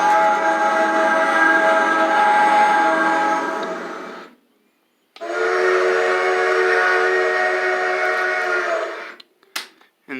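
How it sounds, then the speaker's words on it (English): An HO scale model train controller with built-in sound plays a steam whistle: two long, loud, steady tonal blasts separated by a brief silence, with no talking. "This one has actual sound."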